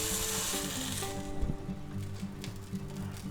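An egg, ham and cheese French toast sandwich sizzles steadily in a hot pan, a close and continuous frying hiss with a brief scrape or press midway and no talking.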